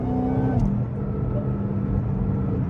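A Ford Mustang following behind on a late-night highway, its engine a low steady hum and road rush heard from a car interior, with a brief rise in revs near the start.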